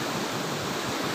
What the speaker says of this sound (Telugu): మత్తడిగూడ వాగు వర్షాలకి ఎలా పొంగుతుందో చూడచ్చు.